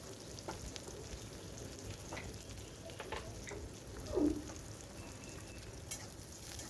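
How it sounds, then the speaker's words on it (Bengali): Chopped onion frying in hot oil in a pan for a ridge gourd dish, giving a steady, close crackling sizzle with a few soft stirring scrapes and a brief louder burst near the end. No one speaks. "সেই পেঁয়াজটা দিয়ে দেওয়ার পরে পেঁয়াজটা বেশ ভালো করে একটু ভেজে নেব।"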